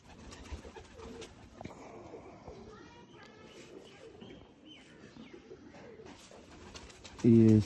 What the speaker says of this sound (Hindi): ये दोस्तों कबूतर फ्रंट से है